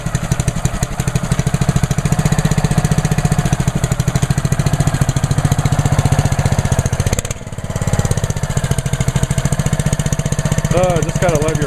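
A Honda GCV 198 engine on a Ryobi 3100psi pressure washer idles steadily, a loud, close, evenly pulsing small-engine drone with a brief dip in the middle before it settles back into the same smooth rhythm.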